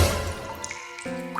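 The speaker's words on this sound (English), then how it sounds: "He heard something outside. Water splashing." Water splashing and dripping near an old village well, soft wet drips and small splashes at close range with no voices, fading near the end.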